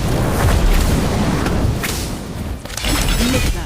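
A fire spell goes off in Harry Potter Magic Awakened as a burst of booming, crackling blasts. Several rough impacts follow one another over a few seconds, loud and dense, with game effects layered on top.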